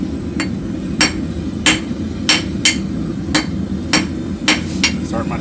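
Hammer forges a short taper on an anvil, a run of about ten sharp metallic strikes at a steady, slightly uneven pace over low background rumble, with no talk.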